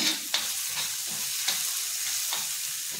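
Malvani masala with turmeric sautéing in a pan, a steady close sizzle broken by regular scraping strokes of the spoon, about one stir every half second, with no talking.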